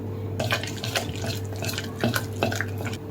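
Water being poured little by little into a flour batter for mini batata vada, with soft splashing and stirring clinks in a kitchen, steady and close.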